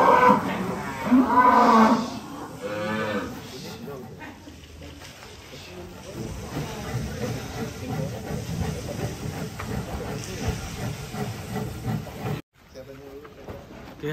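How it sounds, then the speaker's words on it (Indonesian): A large cow at a farm moos loudly as it is unloaded from a truck, a strong harmonic call at the start, followed by shuffling, hissing noise and people talking in the background. "Ini salah satu sapi yang ada di Bintang Tani Farm."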